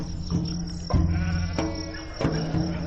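Sheep bleat intermittently a short distance away in Morocco, over a steady outdoor background with faint insect buzzing.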